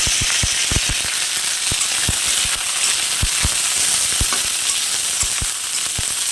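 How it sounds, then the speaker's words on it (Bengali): Pointed gourd frying with curry leaves in a steaming kadai, a continuous hiss of hot oil punctuated by irregular crackling pops, close and fairly loud with no talking. "পটলটা ভেজে তুলে রাখলে মনে হয় ভালো হতো"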